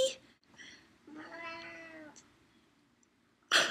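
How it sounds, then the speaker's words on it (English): A cat gives one clear, drawn-out meow partway through, indoors and fairly close, with brief quiet stretches and short noises around it and no talking. "Say hi, kitty."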